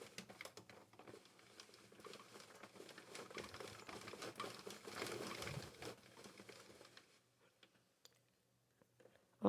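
A Sentro knitting machine works Bernat Fluffee yarn with a busy run of soft clicking and patter for about seven seconds, then falls nearly silent before a sharp noise at the very end.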